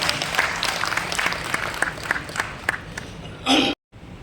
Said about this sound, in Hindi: जोरदार तालियों से उनका स्वागत है।